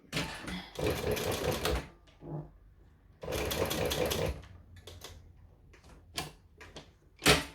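A sewing machine stitches a fabric strap on its largest stitch length, running in two long loud bursts with a pause between, followed by scattered clicks and handling knocks.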